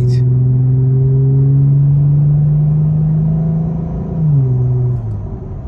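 A Lexus GS 350 with a Borla S-Type axle-back exhaust cruises at speed with a steady, low engine hum; the pitch dips around a gear change and then settles again, smooth and without drone.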